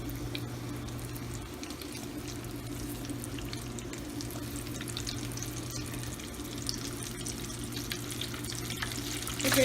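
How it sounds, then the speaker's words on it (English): Mozzarella sticks deep-frying in very hot oil, a steady close bubbling sizzle with faint crackle that holds evenly throughout, with no voices. "we're about to stick some in the fryer because my oil is super hot"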